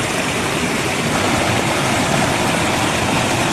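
A waterfall pours in a steady, loud, continuous broadband rush of flowing water, close by and unbroken, with no voices audible over it.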